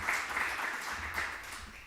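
An audience at a book presentation applauds the speaker as she is introduced, giving an even wash of clapping that stays steady from start to finish.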